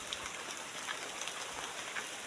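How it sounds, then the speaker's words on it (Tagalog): Steady rain falling outdoors, a dense even hiss with scattered faint drips, constant throughout with no voices. "Umuulan guys."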